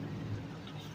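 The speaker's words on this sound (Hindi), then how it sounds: "बहुत गंदा वाला बारिश हो रहा है भाई," Heavy rain pouring steadily as a dense, continuous wash, with a low rumble of thunder underneath, no clear separate claps, heard briefly and without talk.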